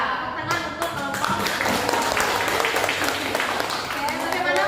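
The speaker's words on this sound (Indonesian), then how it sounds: "tepuk tangan untuk kelompok" Classroom applause for a student group after a quiz, a dense steady patter of many hands clapping that runs throughout at a moderate distance.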